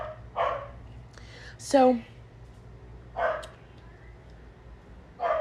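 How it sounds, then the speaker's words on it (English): Neighbours' dogs barking in the background of a home, several separate barks spaced out over a few seconds at moderate distance, with a person briefly speaking. "All I can think is dogs barking"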